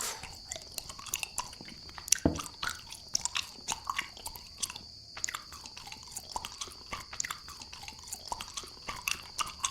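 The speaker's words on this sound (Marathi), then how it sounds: "काय चावतंय?" Wet, crunchy chewing in the horror video game Mad Shepherd, repeated bites in an irregular rhythm, close and fairly loud, over a steady high ambient whine.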